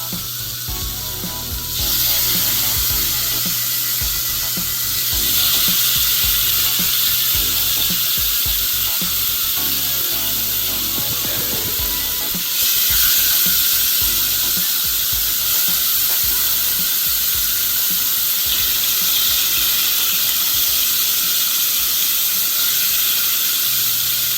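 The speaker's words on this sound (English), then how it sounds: "Look at the beautiful thighs cooking." Seasoned chicken thighs frying in a hot pan, a loud, steady crackling sizzle with hissing steam that swells briefly at a few points, close up and continuous with no talking.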